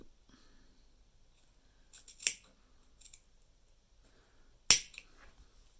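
Scissors chop through leather while trimming the zipper end of a small moon-shaped leather coin purse, giving two sharp snips a few seconds apart, close and crisp against a quiet room.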